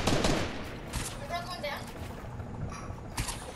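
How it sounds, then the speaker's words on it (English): Rapid bursts of laser gun fire crackle in the Fortnite video game, short repeated shots under players' talk. "Laser gun."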